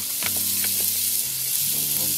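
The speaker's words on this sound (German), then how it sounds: "Jetzt schwitzen wir die Zwiebeln." Onions sweat and sizzle in hot fat in a Dutch oven for an African chicken-peanut stew, giving a steady, close frying hiss with a couple of light stirring clinks.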